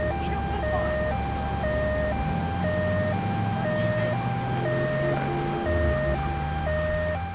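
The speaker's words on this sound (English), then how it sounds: "People could just listen to my siren." An ambulance siren from Grand Theft Auto III sounds loud and continuous, stepping back and forth between two tones in a steady regular cycle over a low rumbling vehicle engine, with no talking.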